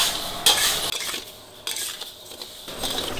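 Rice powder is stir-fried dry in a wok, giving close, continuous scraping and clinking of a metal spatula against the pan, with louder bright strokes at intervals and no voices.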